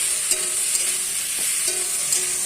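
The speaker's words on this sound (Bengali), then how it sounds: "এবারে নেড়ে চেড়ে কষিয়ে জল ঢেলে দেবো" Fish curry being stirred and fried in a pan, a soft continuous sizzle with occasional light spoon taps and scrapes at irregular intervals, close and steady with no voices.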